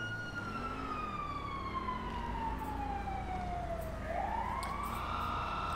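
An ambulance siren in GTA wails steadily and draws closer, its pitch sliding down then sweeping back up, loud and continuous with faint background noise and no talk.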